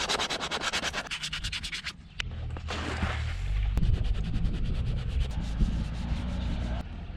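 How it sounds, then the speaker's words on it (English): Sanding a patch on a dinghy with 120 grit sandpaper by hand: rapid rhythmic rasping strokes up close, pausing briefly, then a steadier scraping rub with a low background rumble. "We have 120 grit. We want to sand the area,"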